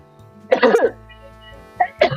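A person gives two short coughs, a sharper one first and a smaller pair near the end, close and alone against a quiet background.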